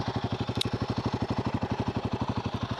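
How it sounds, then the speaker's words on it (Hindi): A Royal Enfield Guerrilla 450 motorcycle idles with a steady, rapid thumping exhaust pulse, close and loud, with one brief metallic tick partway through. "तो so this is the exhaust note, ठीक है। काफ़ी ग्रंट है इसमें, काफ़ी थंप है"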